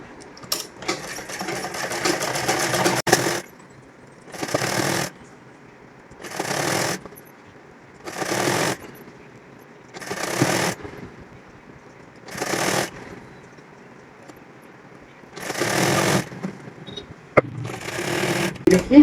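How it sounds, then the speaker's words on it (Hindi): Sewing machine stitching the seams of a plain slip (shameez) garment, running in repeated bursts of about two seconds each with short pauses between, close and steady, no talking. "ये देखिए अब कर देंगे इसकी सिलाई इस तरह से।"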